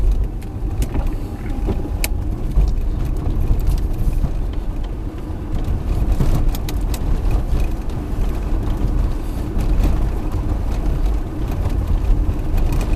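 Car interior on a driving exam route in Khmelnytskyi, a continuous engine and road rumble with tyre noise holding steady throughout, close and moderately loud, with no talk over it.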